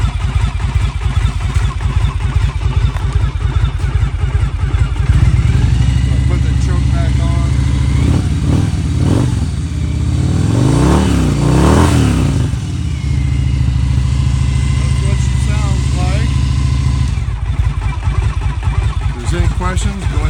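A Victory V92C motorcycle V-twin runs after a cold start on choke, a loud close lumpy idle with a throttle rise and fall midway, and someone talks over it at times.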